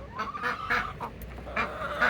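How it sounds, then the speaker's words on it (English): Chickens in a backyard coop clucking nearby, a run of short throaty calls in quick succession with no talk over them. "Like, chickens don't live that long."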